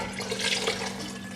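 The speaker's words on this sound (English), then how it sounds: "what I'm going to do now is add a half a litre of warm water" Half a litre of warm water pours into a pot of lentil and bacon soup as a steady, close, moderately quiet splashing stream with no talking.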